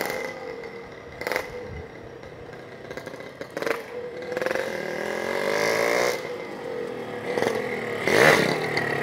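A 1989 Yamaha RX King Cobra two-stroke motorcycle revving nearby, the engine rising and falling through several throttle blips over a steady buzzing idle, with some clatter.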